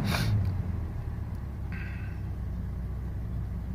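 A 1973 Rover P6 with a 3.5 V8 engine idles with a low, steady rumble after a brief loud burst at the start, settling into an even, fairly close running sound.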